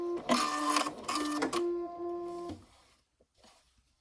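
A sewing machine runs two short bursts of backstitching on washable fabric wipes, whirring with a steady tonal hum for about two seconds before stopping, then quiet handling noises follow.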